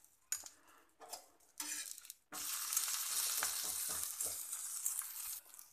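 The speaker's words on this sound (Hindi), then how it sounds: "और अच्छे से गोल्डन ब्राउन होने तक हमें कुलचा को दोनों तरफ से सेक लेना है, हल्का सा देसी घी या बटर लगा के।" Kulcha roasting on a hot tawa with desi ghee, a steady broad sizzle that swells after a few soft scraping handling sounds, holding loud and even for several seconds before easing off.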